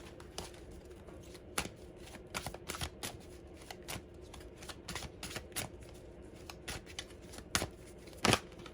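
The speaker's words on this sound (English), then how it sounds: "I'm going to shuffle a bit more." Tarot cards being shuffled close up, a series of crisp riffles and soft slaps at an uneven pace, with no voices.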